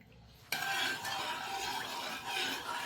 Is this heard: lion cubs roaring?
no